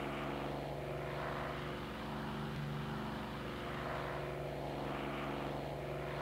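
Propeller airplane engine in a video game, a steady loud droning buzz with a constant low tone that swells slightly, with no talk over it.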